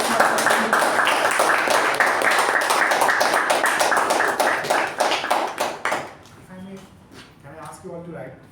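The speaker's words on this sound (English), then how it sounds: "Can we have a big round of applause for Toastmasters?" Audience at a Toastmasters club meeting gives a big round of applause, dense clapping filling the room for about six seconds before fading out as a voice begins talking.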